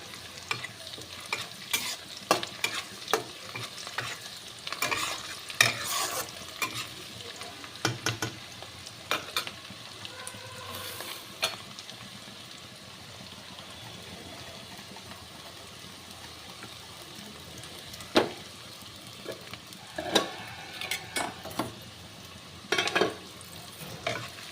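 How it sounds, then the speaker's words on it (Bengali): Onions fry and sizzle in a pan for a chicken dish while a spatula repeatedly scrapes and stirs, sharp scraping bursts over a continuous close frying hiss with no talk. "দেখো পেঁয়াজটা ভাজা হচ্ছে, আরেকটু হবে।"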